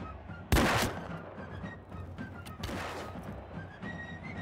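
Musket fire in Mount & Blade II: Bannerlord, a sharp loud crack followed by a decaying tail, then a second, softer blast a couple of seconds later over faint background battle noise.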